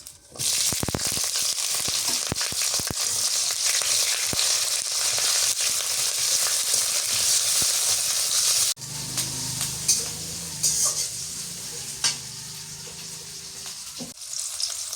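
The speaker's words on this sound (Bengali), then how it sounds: "এখন দিয়ে দিই পেঁয়াজ আর কাঁচামরিচ।" Chopped onion and green chili fry in hot oil with a loud, bright sizzle that fills the first half, then eases into quieter crackling with spatula scrapes and stirring.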